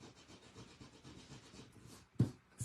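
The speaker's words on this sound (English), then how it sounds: "I'm sanding the paper down to get rid of that ink" Sand eraser rubbing ink off paper in quiet, rhythmic back-and-forth scrubbing strokes, close up and soft, followed by a sharper bump near the end.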